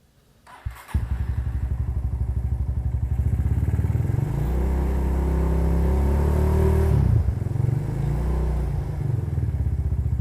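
A modified Honda CB motorcycle cranks and starts, then settles into a loud, steady, close-up idle with a rapid even pulse, a slight rise in revs partway through and a dip near seven seconds.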